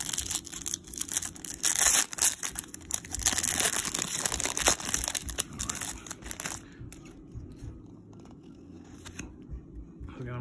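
Wrappers on packs of old football cards get opened close up, a run of crinkling, tearing and rustling bursts that thins out and goes quieter near the end, with someone talking over it.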